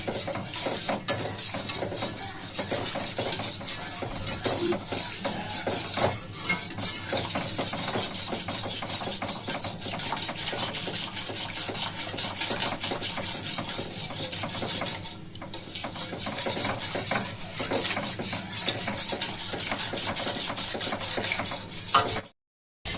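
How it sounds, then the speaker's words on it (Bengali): Steady scraping and rubbing as a spoon stirs a hot cocoa mixture in a pot off the heat for chocolate ice cream, continuous close-up friction against the pot with no talking. "এবারে এভাবে একটুখানি নাড়িয়ে যেতে হবে অন্তত 5-7 মিনিট"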